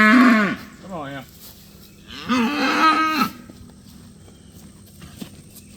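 Cattle on a homestead moo loudly and close by, with two long lowing calls and a shorter one between them, followed by quiet shuffling and footsteps.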